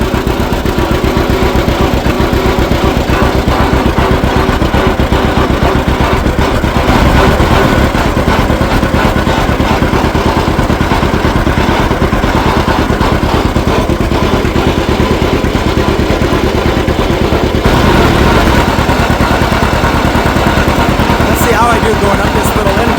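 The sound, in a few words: antique tractor engine at full throttle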